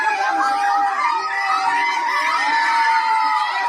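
Children shouting and cheering together, a dense, shrill crowd of young voices sustained at close range throughout, with some chatter mixed in.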